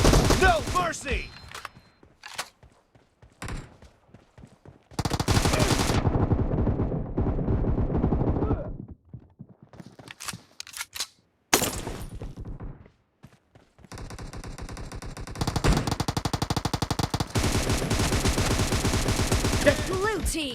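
Rapid gunfire from a team-based shooting video game comes in bursts of automatic fire and single shots, broken by short silent gaps, and ends in a long sustained stretch of shooting. Some game voice lines sound between the bursts.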